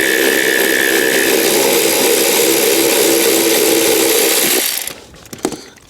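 A ratchet and small extension turning out Torx screws from the centre console of a Fiat 500, a steady close mechanical whir lasting about four and a half seconds before cutting off into a few faint clicks.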